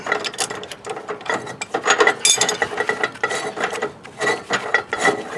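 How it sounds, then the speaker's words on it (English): Ratchet wrench clicking steadily in bursts as it backs off an RV wheel axle nut during an electric brake job, close and fairly loud with metallic rasping between strokes. "Next I'll remove the axle nut here."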